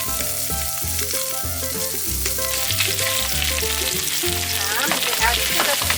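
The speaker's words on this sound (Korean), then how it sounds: "이렇게 고기를 한번 이렇게 구워주면은 생선의 육즙이 빠져나가지 않아서 더욱더 맛이 좋답니다" Spanish mackerel searing in a hot pan gives a continuous bright sizzle, close and fairly loud, under a melodic music track.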